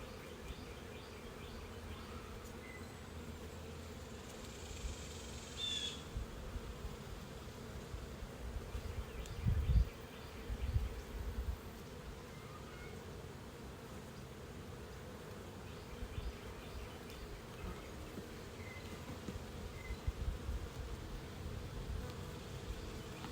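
Honey bees swarm around an open hive during a summer inspection, a constant dense buzzing close by with a few louder passes as single bees fly near, and no talk.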